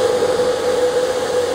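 Cooling fans on a homebrew Peltier test rig whir steadily and close, a constant airy hum with a sustained tonal drone and no talk over it.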